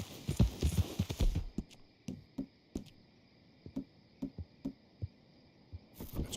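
Horse hooves pound along in the Red Dead Redemption video game, a regular clip-clop rhythm of distinct beats at moderate volume after a short burst of other noise at the start.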